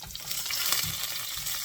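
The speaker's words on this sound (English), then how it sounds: "So first thing is adding the green chilies and then the garlic. Just stir it once." Green chilies and garlic frying in a pan for a ridge gourd pickle give a steady, close hiss of sizzling oil that holds level throughout with no talking.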